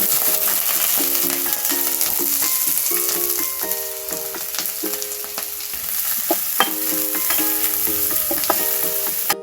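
Onions and green chillies frying in oil in a pan, a loud continuous close sizzle with stirring scrapes throughout, no voices.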